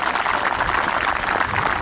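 Crowd applause for a senior left fielder at a college softball opening day, a dense steady wash of clapping at even loudness throughout, no talk.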